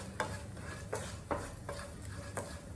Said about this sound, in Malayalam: ഇതിൻ്റെ ഒരു പച്ചമണം മാറുന്ന വരെ നമ്മളിങ്ങനെ ഇളക്കുക